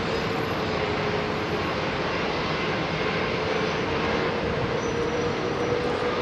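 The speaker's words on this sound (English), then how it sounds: "BA Dreamliner off to Delhi is 9 years old." A nine-year-old British Airways Boeing Dreamliner jet departs Heathrow for Delhi, its engines giving a steady, broad, moderately loud roar that holds evenly throughout with no talk over it.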